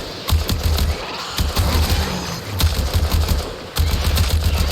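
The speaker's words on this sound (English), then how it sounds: "Sounds like a solid weapon. Like I'm firing a real rifle, not some like pop, pop." Kuba Karak rifle firing in the video game Warframe, rapid solid automatic bursts in several rhythmic volleys with short gaps, loud and close.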